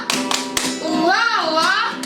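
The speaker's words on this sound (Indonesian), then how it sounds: "Biar lebih semangat lagi, kita coba tepuk semangat yuk." A rhythmic spirit clap at a children's church service: a few sharp group claps are heard, one at the start, two quick ones, then one at the end, while a voice exclaims with rising and falling pitch in between.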